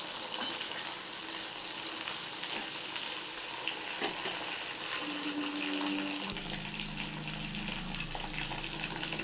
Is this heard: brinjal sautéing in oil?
yes